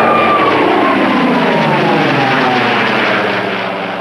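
A vintage Curtis Kittyhawk propeller aircraft, a former RNZAF warbird flying in New Zealand, passes with a loud, steady engine drone whose pitch slowly slides lower as it moves away.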